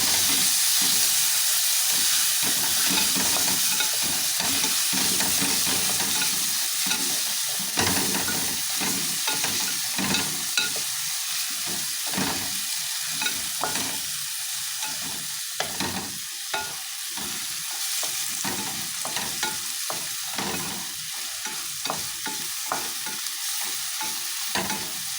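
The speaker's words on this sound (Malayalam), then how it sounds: "നമുക്ക് നന്നായിട്ട് ഇളക്കി കൊടുക്കാം." Small tomatoes fry and sizzle in a pan for a home-style chicken curry, a steady close hiss broken by frequent scraping stirs throughout, with no talking.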